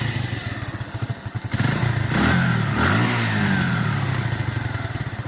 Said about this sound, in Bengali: দেখুন বাইকটির সাউন্ড যদি একটিবার আপনাদেরকে দেখিয়ে দেয়,